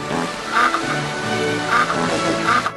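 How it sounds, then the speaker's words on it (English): A novelty app's farting duck sound effect: comical quacking repeats three times at a steady rhythm over a buzzy, flatulent drone, loud and close. "download a novelty app that makes it emit the sound of a farting duck"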